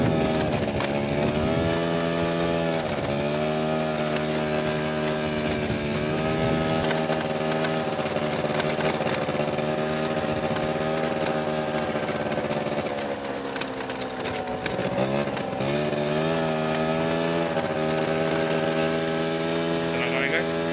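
Motorcycle with a damaged muffler running steadily for the whole stretch, a loud, rough, droning engine note that dips briefly midway, with talk faintly underneath.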